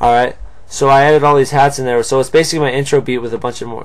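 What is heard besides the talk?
None of the usual background noises is heard.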